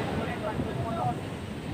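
Large sea waves on a beach where boats are being hauled up, heard as a steady dense surf roar mixed with wind buffeting, fairly loud and continuous over a short stretch.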